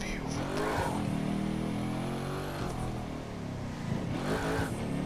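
A car engine revs and accelerates on a test drive in The Crew 2, a loud close harmonic drone rising and falling through gear changes over a steady road roar.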